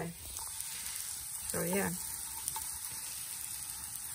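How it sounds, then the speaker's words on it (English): Potato pancakes made without onions frying in a pan, giving a steady close sizzle and crackle throughout, with a brief spoken remark over it. "Potato pancakes tonight."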